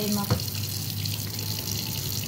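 Water runs steadily into a cooking pot to boil labong (bamboo shoots), a continuous close pouring rush with a brief clink near the start.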